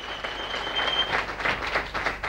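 Audience applause for the third contestant in a talent contest, a steady wash of clapping at moderate distance that swells slightly toward the middle and continues to the end, with a thin sustained tone running through the first half.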